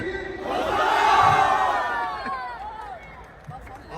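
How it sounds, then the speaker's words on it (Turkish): A crowd at a Mersin fair car gathering roars together in a loud shout that swells and fades, with scattered cheering and clapping trailing after. "Alkış. Alkış helal olsun."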